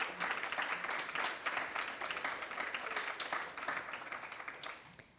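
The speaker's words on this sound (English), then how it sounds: "So please give a round of applause to your family and friends." An audience at a spring 2023 nursing pinning ceremony applauds family and friends, a sustained wash of many hands clapping at moderate volume that thins slightly as it tapers at the end.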